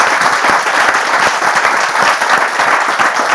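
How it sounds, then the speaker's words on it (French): An audience applauds loudly, a thick, continuous burst of many hands clapping that stays strong and even from start to finish. "On peut vous applaudir bien fort, vous êtes formidables."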